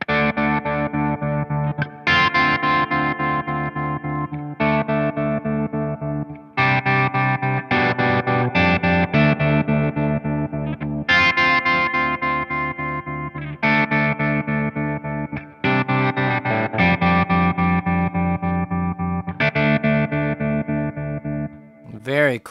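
Electric guitar through a Strymon Flint pedal in tremolo mode, a long run of strummed chords and phrases with rhythmic volume pulsing and brief pauses between, loud and close.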